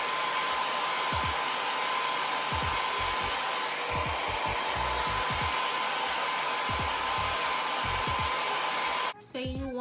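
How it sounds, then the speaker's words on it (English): A handheld blow dryer runs steadily and close up, drying wig glue under lace during a closure wig install, a constant broadband whoosh with low thumps scattered through it before it cuts off near the end. "we're gonna go in with the blow dryer"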